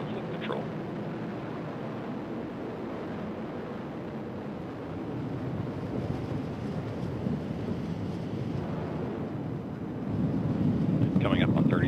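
An Atlas V rocket launching the SES-20 and SES-21 satellites produces a steady, distant broadband roar with a low rumbling crackle that swells slightly louder toward the end.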